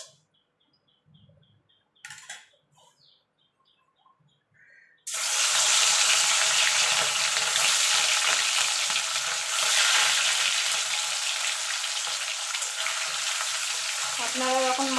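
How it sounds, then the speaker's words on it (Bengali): Rohu fish drops into hot oil in a kadai for a Bengali mustard rohu dish. A few quiet seconds give way to a loud, steady, crackling sizzle that lasts to the end. "এবার আমি মাছগুলো ভেজে নেব।"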